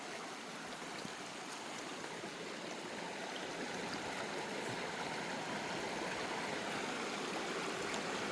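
Clear, cold stream water rushes steadily at Dunning Springs in Iowa, near a 200-foot waterfall, a constant broadband wash of flowing water with no talk.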